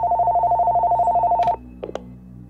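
A cartoon telephone rings with a steady, rapid electronic trill for about a second and a half, then stops, followed by a few short faint clicks.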